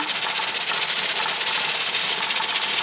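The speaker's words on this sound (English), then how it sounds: "It sounds like a steam engine going." Loud, steady hiss of steam escaping from a pressure canner while canning potatoes, continuous and close, with a faint pulsing flutter running through it.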